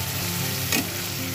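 Ginger garlic paste sizzles in a hot pan with a constant, dense frying hiss, and a brief stirring scrape swells midway.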